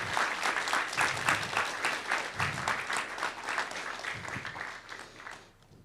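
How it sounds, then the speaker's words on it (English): Audience applauding at a 2023 Union Fire Department service awards ceremony, a sustained wash of many hands clapping throughout that tapers off slightly toward the end. "Please give me a round of applause."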